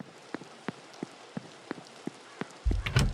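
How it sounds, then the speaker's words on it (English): Steady rain falls in The Séance of Blake Manor, a soft continuous patter broken by scattered sharp droplet ticks, ending in a brief louder rumble. "You know, you just standing out in the rain."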